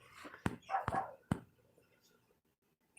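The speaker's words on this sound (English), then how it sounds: "my dog won't stop right now" A pet dog barks three times at close range indoors, sharp loud woofs spaced under half a second apart, followed by quiet.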